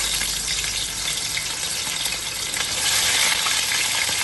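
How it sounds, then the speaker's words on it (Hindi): Chicken, a kilogram of it, frying in hot oil in a pot, giving a steady loud sizzle and crackle throughout that swells slightly toward the end, with no talking. "चिकन को हमने फ्राई कर लेना है।"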